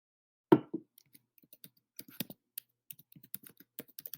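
Typing on a computer keyboard: a loose run of light, quick key clicks after one louder tap, close and quiet with no talking.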